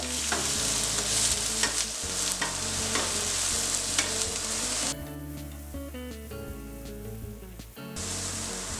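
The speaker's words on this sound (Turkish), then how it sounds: "yarım çay kaşığı kadar tatlı kırmızı biberi, toz, yarım çay kaşığı kadar da tane karabiber ekliyorum ve sotelemeye devam ediyorum" Zucchini and vegetables sauté in a pan with sweet paprika and black pepper, a steady close sizzle under continuous stirring and scraping, briefly softer midway before the hiss returns.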